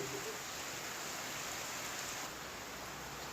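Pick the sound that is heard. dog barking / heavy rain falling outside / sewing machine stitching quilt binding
heavy rain falling outside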